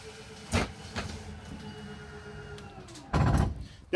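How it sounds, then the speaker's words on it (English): A Rockwood 2507S trailer tip-out retracts with a mechanical ratcheting and a couple of sharp clunks, ending in a louder grinding burst, recorded close by with no talking. "There's the ratcheting sound."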